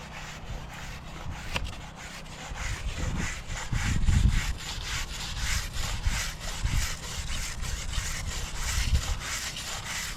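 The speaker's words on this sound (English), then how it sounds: "let's give it a little scrape and see what happens" Charred live edge wood siding on an off-grid cabin being scraped, a close, rough and steady back-and-forth rasping in repeated strokes, with no talking.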